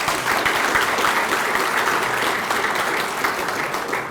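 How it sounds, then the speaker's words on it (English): Steady applause from an audience at a chamber event keynote by Governor Tim Walz, dense clapping that stays loud and even throughout. "A round of applause, please."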